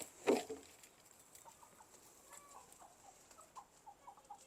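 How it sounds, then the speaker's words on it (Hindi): A black rooster clucks faintly at a distance, a short sharp call at the start followed by soft scattered clucks over quiet background. "हमारा काला मुर्गा भी आ गया बाहर"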